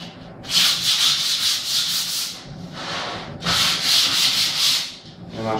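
Sandpaper rubbing over wood in close, loud bursts of scratchy strokes, a few seconds each with short gaps between, no voices.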